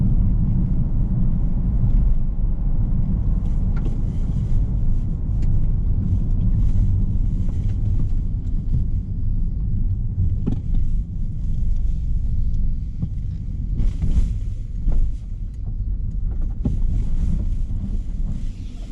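Steady low engine and road rumble from a car driving through rural Northumberland toward a small stone village near Hadrian's Wall, with gusts of wind buffeting the microphone throughout and no talk.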